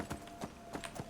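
A skinny horse in the video game Skyrim, modded with Elysium, trots along with four soft, evenly spaced hoof thuds on ground, light and fairly close, no voices.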